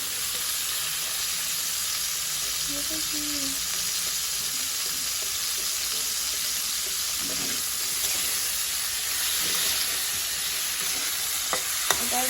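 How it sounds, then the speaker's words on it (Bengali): Cauliflower curry cooking in a pan, a continuous soft sizzle with occasional stirring scrapes, close and steady without talk. "আমি এখানে সেই ফুলকপি দিয়ে তরকারিটা বসিয়ে ফেলেছি অলরেডি"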